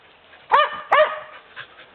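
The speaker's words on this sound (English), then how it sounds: "There's Rocky barking because he wants to be part of it" A little puppy gives two sharp, close barks in quick succession, followed by a faint softer yip, among a litter of puppies.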